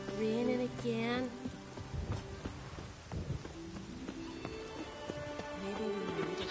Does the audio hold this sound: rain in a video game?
yes